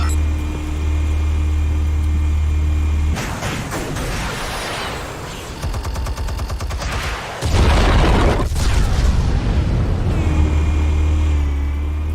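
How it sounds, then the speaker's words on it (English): Explosives detonate in Batman: The Telltale Series, a loud broadband blast erupting around three seconds in, followed by a second heavy burst near seven and a half seconds, with rumbling debris between and a low sustained hum throughout. "Explosives armed. Fire when ready."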